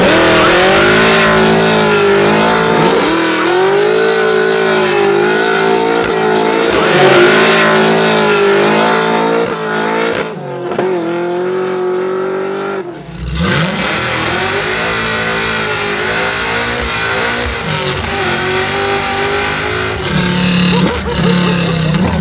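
A supercharged LS9-powered 1967 Chevy Nova accelerates hard with a loud, close engine roar that rises through the revs, drops briefly at a gear change, then screams upward again.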